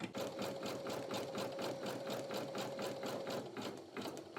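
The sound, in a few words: embroidery machine stitching a design in a 5x12 inch hoop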